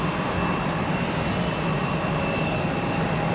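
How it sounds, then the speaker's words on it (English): An Endeavor regional jet banks hard left away from Raleigh-Durham International airport after a missed approach, its engine a steady distant roar with a faint whine, fairly quiet and unchanging throughout. "Endeavor 5232 making a hard left turn away from the airport."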